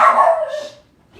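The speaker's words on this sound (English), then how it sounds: "Having your dog be barking like a crazy person." A single loud, close dog bark sounds, trailing off into a short whimpering tail.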